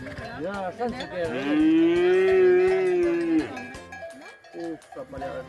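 Cattle moo loudly and repeatedly during a mountain transhumance in the Ossau valley, with a long drawn-out low call in the middle and cowbells clanking in the background, near and prominent with no talk.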